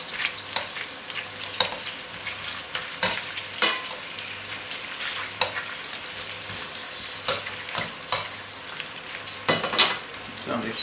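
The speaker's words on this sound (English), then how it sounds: "using the same pan, the same fat, same oil, I'm going to add the onions" Onions frying in pork fat and oil in a pan give a steady close sizzle, broken by frequent crisp stirring clicks and scrapes, with no talking.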